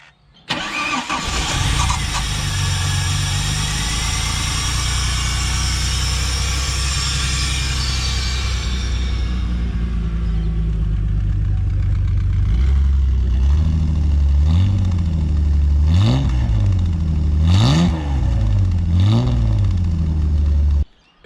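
A Holden Commodore Ecotec V6 engine, after injector and fuel filter replacement, cranks and catches, settles into a rough idle, then revs up several times in short bursts near the end.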